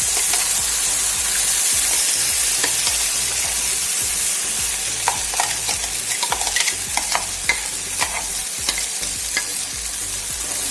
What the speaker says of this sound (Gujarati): હવે આપણે જે ચટણીને તૈયાર કરીને રાખી છે તે તેલની અંદર લઈશું